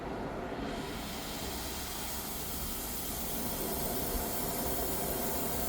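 An oxy-fuel cutting torch adjusted to a blue flame gives off a steady, loud broadband hiss and roar that builds within the first second and holds evenly, during work on a first-generation Ford Explorer rear wheel bearing.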